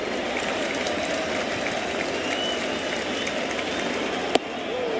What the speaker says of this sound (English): The crowd on its feet, looking for one more out